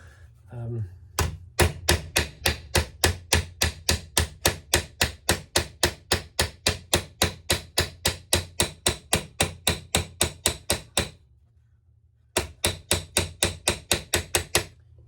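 Metal motorcycle under tray for a Honda Hornet cafe racer being hammered flat, a long run of steady, evenly spaced ringing blows, close and loud, pausing briefly before a final burst of strikes.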